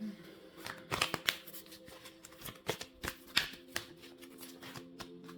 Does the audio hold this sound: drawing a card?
yes